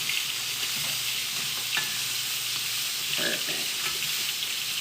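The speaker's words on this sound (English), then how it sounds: "I'm gonna give it a quick stir" Oregano is stirred into sautéed vegetables sizzling steadily in a pan, a constant close frying hiss with a few brief scrapes of the spoon and no talking.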